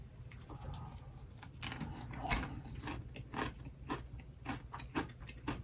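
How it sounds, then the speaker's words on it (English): Crunchy bites of air-fried bacon, a series of short, crisp crackles spread irregularly through the clip over a low background hum, fairly quiet and close. "Can you hear that crunch?"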